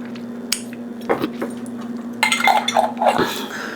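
A metal utensil spreading strawberry preserves, heard as light clinks and scrapes against a dish, with a soft squishy smear toward the end over a steady low hum.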